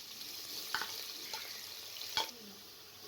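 Onions frying in oil in a pressure cooker, with a soft steady sizzle and a few sharp clinks of a spoon stirring against the pot.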